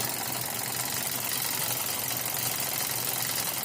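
A small model engine running on its own after self-starting, a steady close mechanical chug with even rapid beats and a constant hum throughout, no voices.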